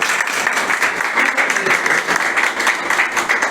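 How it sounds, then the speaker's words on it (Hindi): Dense, steady applause from an audience honouring a state topper at a ceremony held by a local akhara, sustained and fairly loud throughout without a break. "हम हर्षध्वनि करेंगे तालियों की गड़गड़ाहट के साथ।"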